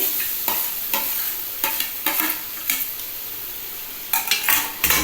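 Masala and mashed potato for chickpea dal being stir-fried in a pan, a low sizzle broken by repeated sharp scrapes and clinks of the spatula against the metal, close up and without talk.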